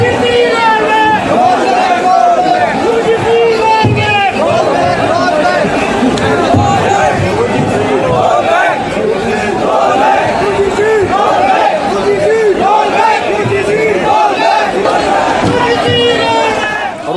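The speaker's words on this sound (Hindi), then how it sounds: "उसके बाद फिर नारेबाजी शुरू हुई।" A dense protest crowd at Jantar Mantar in Delhi, rallying against reservation, chants slogans in loud rhythmic unison, many voices overlapping continuously and close by with no pauses.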